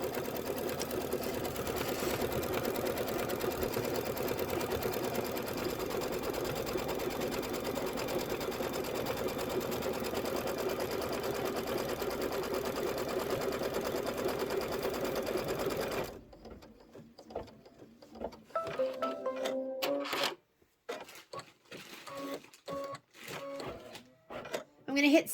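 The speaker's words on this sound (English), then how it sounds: "I'm going to hit start and let it do the quilting now" An embroidery sewing machine quilts a Kimberbell rain boots block, running as a loud, steady mechanical whir for about sixteen seconds before stopping, with scattered clicks and handling noises after it goes quiet.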